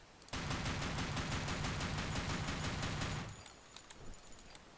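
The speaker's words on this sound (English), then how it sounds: "let's go with tap fire again at the line" An NX rifle in the Blackshot shooter fires at a test range. One dense, rapid string of loud shots runs for about three seconds, then cuts off into quiet.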